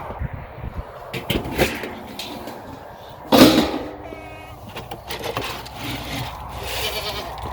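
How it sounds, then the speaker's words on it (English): Goats on a farm bleat in short, scattered calls at a middle distance, one louder cry standing out, mixed with bumps and rustling and a little background talk. "You hear the goats behind us."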